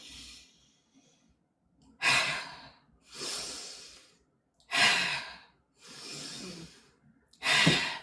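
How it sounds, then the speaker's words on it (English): Slow, deep calming breaths are taken close up: four long airy breaths, each a couple of seconds, separated by quiet pauses, with no talking. "you want to stop, relax, and breathe in"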